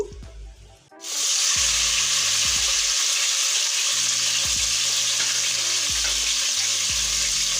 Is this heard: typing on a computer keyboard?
no